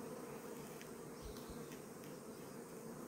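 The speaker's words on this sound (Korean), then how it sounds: "이게 들어온 거예요. 이 벌이 많아지네." Honey bees swarm around a beehive in Gimje, their continuous buzzing forming a faint, steady drone with a few brief louder passes as individual bees fly close, and no voices.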